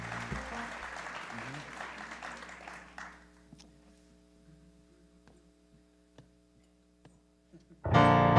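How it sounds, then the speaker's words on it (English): Audience applause at a sacred music gathering, dense and fairly loud for about three seconds, then fading into a quiet room with steady mains hum and a few faint knocks before a sudden loud burst returns at the end. "give yourselves a round of applause"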